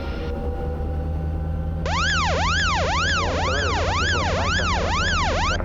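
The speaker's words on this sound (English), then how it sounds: "You're going to hear an alert." A Bell 505 helicopter cockpit alert for battery charging sounds as a repeating warbling electronic tone, rising and falling about eight times over a steady engine drone, loud and close.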